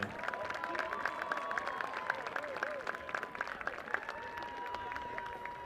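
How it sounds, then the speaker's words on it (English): Crowd clapping at a high school football game to honor the senior players, steady applause with scattered distinct claps and some cheering, moderately distant and continuous. "Let's give another big round for our seniors and all the activities they've been in."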